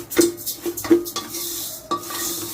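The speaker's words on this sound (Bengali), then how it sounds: "চাল আর ডালটাকে ভালো করে তোমাকে একটুখানি শুকনো ভেজে নিতে হবে" Rice and lentils are stirred and dry-roasted in a pan, giving a few scraping strokes of a utensil against the pan, close and fairly clear, with one or two light clinks and no speech.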